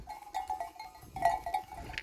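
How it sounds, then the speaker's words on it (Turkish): Sheep in a village pasture give short bleats, along with a few ringing livestock bells, moderately close and fairly quiet in a brief burst. "Ve koyunlar da doydu artık"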